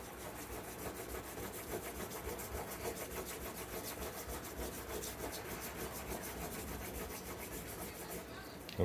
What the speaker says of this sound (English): rub it on the cardboard